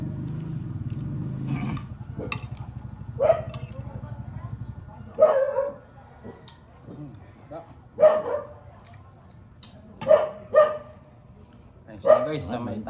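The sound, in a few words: dog barking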